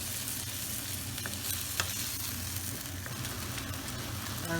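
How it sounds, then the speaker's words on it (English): Worcestershire sauce and tomato puree stirred into a hot pan for British cottage pie, with a continuous sizzle and frying hiss and scattered light scraping stir sounds, close and steady with no talking. "we're going to add about a tablespoon of Worcestershire sauce, along with about 2 tablespoons of tomato puree, and we'll mix that through too"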